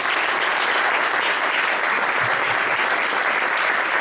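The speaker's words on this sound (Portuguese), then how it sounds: "Pode aplaudir o Senhor." A church congregation applauds after a missionary debate gathering, a dense and steady wash of clapping from many hands that fills the room at an even level throughout.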